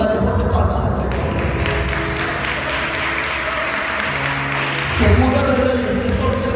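A church congregation at a Spanish-language service claps together in steady, dense applause that fills the room and swells briefly near the end.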